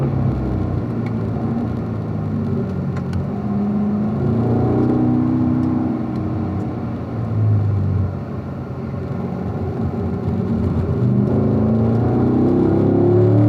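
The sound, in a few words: car lapping Ron Fellows Springhill race track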